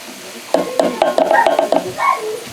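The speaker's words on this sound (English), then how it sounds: "And we're going to mix it all up." A spoon stirs cooked ground beef and vegetables in a pan for sloppy joes, giving a series of close scraping, clinking strokes over a light sizzle.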